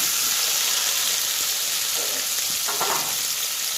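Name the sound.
chopped onions frying with cumin seeds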